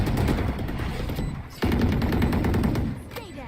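Rapid automatic gunfire in the tactical shooter Valorant, loud bursts filling most of the stretch with a short pause in the middle, then another sustained volley, with faint game voice lines underneath.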